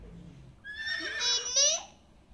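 A horse gives a single rising-and-falling whinny lasting about a second, clear and fairly close over a quiet background.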